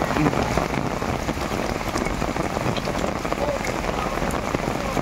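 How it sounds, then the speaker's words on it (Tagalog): Heavy rain pours steadily onto surfaces near a flooded riverbank road, a dense continuous hiss and patter with no break across the short stretch. "Malakas pa yung ulan."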